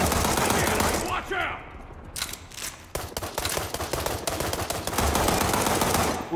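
Rapid automatic gunfire bursts and scattered single shots in a video game match, where units fight over an objective. The shots crackle close and loud, almost without pause, across the whole stretch.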